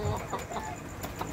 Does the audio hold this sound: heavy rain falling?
no